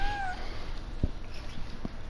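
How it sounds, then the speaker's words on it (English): Cat meowing in the video game Genshin Impact, a short high meow at the start followed by faint soft thumps, fairly quiet against a light background. "It really is a cat."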